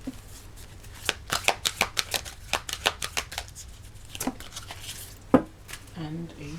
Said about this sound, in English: Let's get a card from the Power of the Elements